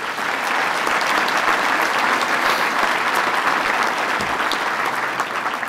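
An audience at a Toronto mayoral debate applauds the event sponsors, a full, sustained roar of many hands clapping steadily without pause.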